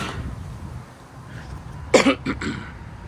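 One short, husky cough close by, with a couple of smaller throat sounds right after, over quiet background noise.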